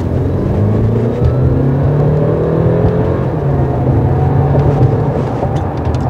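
Audi A7 55 TFSIe plug-in hybrid with a four-cylinder engine and electric motor accelerating, a steady rising engine drone and whir heard from inside the cabin.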